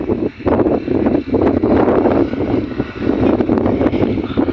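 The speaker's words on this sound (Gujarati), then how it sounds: "પવન આવે જોરદાર" Strong wind buffets the microphone outdoors, a loud rushing roar that surges and dips in gusts throughout, with no voices.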